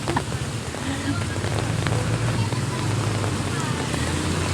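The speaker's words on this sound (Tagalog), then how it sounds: "Naligo na lang talaga siya sa lakas ng ulan." Heavy rain pours down in a steady, close, hissing wash, with a low rumble underneath that runs throughout the moment.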